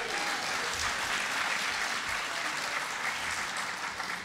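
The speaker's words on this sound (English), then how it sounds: "Give them a round of applause." A large conference audience gives a sustained round of applause for health-care panel guests at a tribal nations conference. The clapping is even and steady and heard from a distance throughout.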